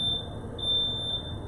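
A smoke alarm sounds in a home kitchen during French onion soup cooking, a shrill high-pitched tone beeping in two long pulses over low background rumble, with no one talking.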